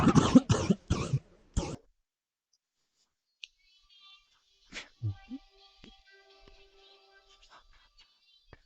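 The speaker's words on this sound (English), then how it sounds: "Very sorry about my coughing." Several harsh coughs come close to the microphone in a quick burst at the start, followed by faint clicks, shuffling and a few soft vocal sounds while someone plays a two-player egg game.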